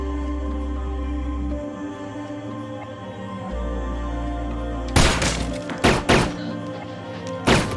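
Gunfight inside a house in a film: after a steady low hum, a cluster of sharp, loud bangs erupts, with several more separate cracks following in quick succession.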